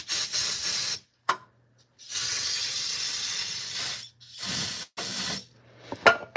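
A nearly empty can of carburetor cleaner sprays in broken, sputtering hissy bursts, with short gaps between spurts, close and fairly loud, during work on a Plymouth intake manifold.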